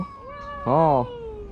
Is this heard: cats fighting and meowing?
yes